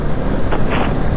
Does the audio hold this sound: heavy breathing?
no